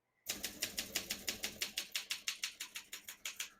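Steady run of crisp mechanical keystrikes from a 1963 Olympia SM7 portable typewriter, about six clacks per second, close and clear with no talking.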